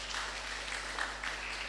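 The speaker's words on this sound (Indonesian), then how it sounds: "Tepuk tangan untuk kita semua." A crowd claps steadily at a Sidoarjo gathering on youth and small businesses, a dense, even patter of hands held at moderate level for the whole short stretch, with faint voices mixed in.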